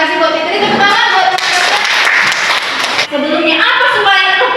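An Indonesian classroom of students claps for a classmate, loud, close group applause with voices and chatter mixed in throughout.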